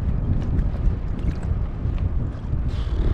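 Steady gusting wind buffets the microphone on a kayak out on open water, a constant low rumble with faint water splashes and no voices.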